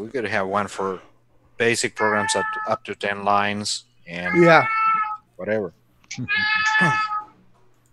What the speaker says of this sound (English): Who the hell's got a cat? That's my cat.